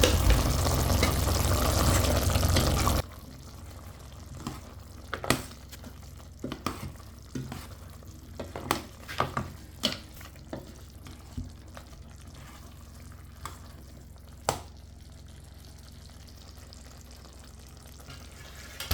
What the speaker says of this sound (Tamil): தூள் போட்டு வடிவாக பிரட்டி விட்டுருக்கு